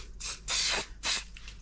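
Short hissing bursts from a spray bottle misting model railway scenery, three quick pumps in under two seconds, close and fairly loud with nothing else heard.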